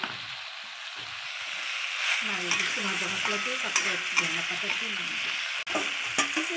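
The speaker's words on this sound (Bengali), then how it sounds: "ভাজা মশলা দিয়ে নাড়িয়ে দিয়েছে।" Curry being stirred in a hot pot after roasted spice mix goes in: a steady hiss of frying, then soft scraping stirs and occasional light clicks, fairly quiet and close.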